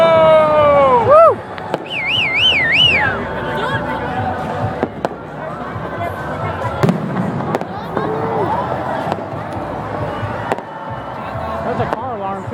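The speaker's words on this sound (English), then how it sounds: "There's a car alarm ticker right there." A car alarm wails with a rising, warbling electronic tone for a few seconds amid New Year's fireworks in Reno, Nevada, followed by scattered sharp bangs and people talking nearby.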